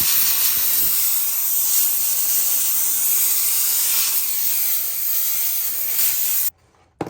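KOITAT handheld steam cleaner letting out a loud, steady hiss of steam for several seconds, then cutting off abruptly into near silence.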